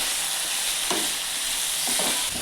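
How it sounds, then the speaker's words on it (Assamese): Steady sizzle of chicken frying with tomatoes in a pan fills the clip, with a few soft stirring scrapes breaking through near the middle and end. "এতিয়া এইখিনি অকণমান ভাজি লওঁ"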